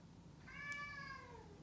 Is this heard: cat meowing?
yes